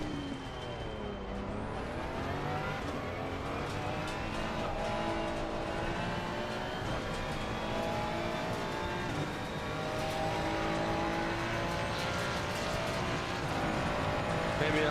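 Race cars in a racing video game roar past on the Brands Hatch circuit, engines droning and shifting pitch continuously and loudly throughout, with someone talking over the engine noise.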